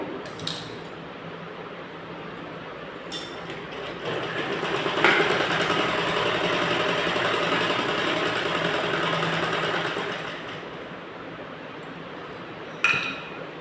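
A sewing machine runs a second line of stitching on a net fabric blouse, a steady whirring hum lasting several seconds, flanked by brief clicks and clinks of handling before and after.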